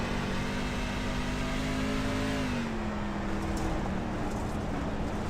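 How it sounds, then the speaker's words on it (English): A race truck engine on a Twisted Chassis Truck Series machine lapping Knoxville Raceway, heard onboard as a steady, loud, continuous drone with a harmonic pitch that sags partway through as the throttle eases, with no talk over it. "Let you hear his throttle on his engine, how he's driving it around here."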